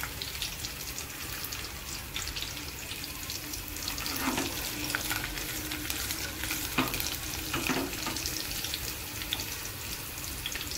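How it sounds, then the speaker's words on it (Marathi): Cumin seeds sizzle steadily as they are sautéed in a pan for methi bhaji, a dense close frying hiss with occasional stirring scrapes and no voices. "त्यानंतर मी त्याच्यामध्ये आपण घेतलेले जिरे टाकलेले आहे"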